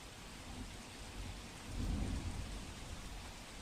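Heavy monsoon rain falls in Navsari, Gujarat, a soft, steady wash of drops with a low thunder rumble swelling about halfway through and then fading back into the rain. No one speaks.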